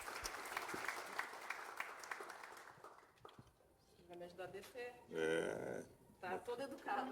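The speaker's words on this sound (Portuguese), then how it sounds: "Uma salva de palmas" Applause from a dinner-debate audience of business people, a dense patter of clapping for about three seconds that fades out, followed by voices talking and a bird-like cooing sound.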